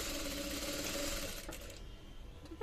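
A sewing machine runs steadily while stitching a band collar, a dense close whirring rattle for about a second and a half that then slows and stops, leaving quieter handling noise with a brief knock at the end.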